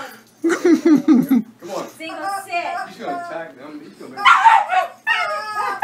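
A dog yips, whimpers and barks in a short excited burst of high yelping and howl-like cries, close by, with people talking in between.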